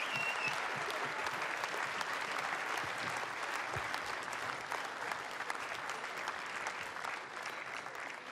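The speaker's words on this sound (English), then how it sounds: "Ladies and gentlemen, the Waikato women, I'm sure they deserve another rich round of applause." Crowd applause at the Farah Palmer Cup 2020 women's rugby final between Canterbury and Waikato, a steady, dense wash of clapping from a stadium audience lasting several seconds.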